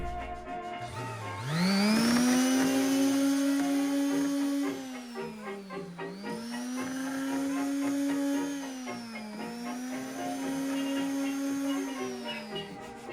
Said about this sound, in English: I'm going to sand it then, just to make this surface a little more even